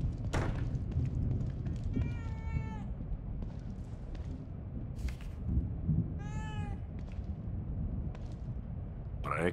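A cat meows twice in The Evil Within 2 video game, two distinct drawn-out cries a few seconds apart over a steady low ambient drone.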